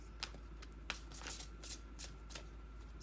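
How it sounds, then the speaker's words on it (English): Romance Angels oracle cards are shuffled by hand, giving a soft, close riffling flutter with a few brighter snaps and no voices. "I'm going to pull you 2 Romance Angels cards."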